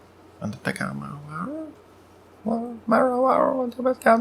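A human voice yips, whines and barks in imitation of a dog, in short bursts with pauses between, close and clear.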